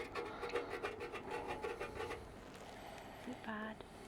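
Scraping and rubbing at flaking paint on a leaking tank, close and rhythmic, with people talking over it.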